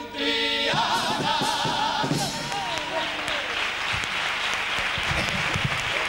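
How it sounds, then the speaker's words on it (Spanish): Carnival audience applauding after a paso doble performance, a loud, full burst of clapping that starts abruptly as a sung note ends and continues steadily from a large crowd. "Leves aplausos para este primer paso doble"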